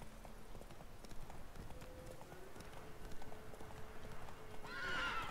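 Horse in the video game The Witcher 3 trotting with steady clip-clop hoofbeats, then a loud whinny near the end, over low game ambience and faint background sound.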